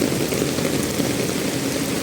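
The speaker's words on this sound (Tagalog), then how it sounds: "Ang lakas ng ulan." Steady, dense rainfall hisses continuously at an even level, a heavy broadband wash with no pauses and no voices, during a thunderstorm.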